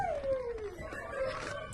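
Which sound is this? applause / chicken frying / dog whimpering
dog whimpering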